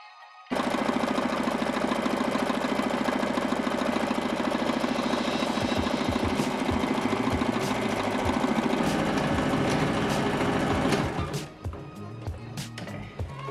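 A sewing machine runs in one steady, close whirring burst of about ten seconds while stitching a seam on a shopping bag made from old fabric, then stops, followed by light handling clicks.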